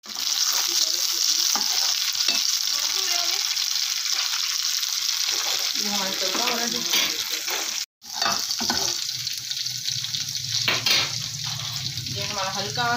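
Garlic sizzles and fries in a hot pan for kaali maash daal, a loud continuous crackling hiss that runs through the whole stretch with a short break midway and stirring scrapes along the way.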